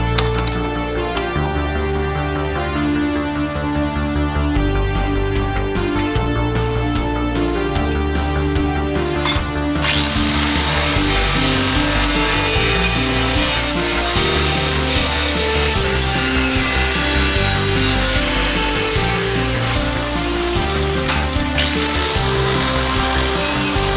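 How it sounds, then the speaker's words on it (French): Power tools such as an angle grinder cut small squares out of thin sheet metal for motorcycle engine covers on a Suzuki GS 500 café racer, giving a loud, continuous grinding whine that runs the whole time with no break. "Voilà, j'ai découpé mes deux petits carrés, hop, dans cette tôle là."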